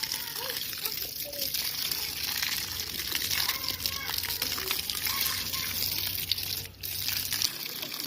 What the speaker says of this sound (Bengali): এই যে এভাবে সবগুলো গাছে পানি দিয়ে দিব।